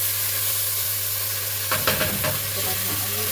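Soaked rice tipped into a hot pot of oil for a simple home-cooked lunch sizzles with a steady loud hiss, broken by a few sharp scraping strokes of a spoon stirring it partway through.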